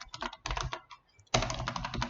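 Rapid keystrokes on a computer keyboard as code is typed for a Matplotlib line plot. Close, crisp clicking comes in two quick bursts separated by a brief pause.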